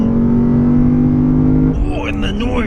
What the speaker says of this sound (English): the noise of this car that it makes is fantastic